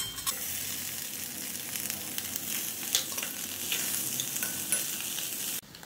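Potatoes and spices with curry leaves, green chilli paste, turmeric and asafoetida fry in a pan, a steady close sizzle with scraping stir strokes, ending abruptly.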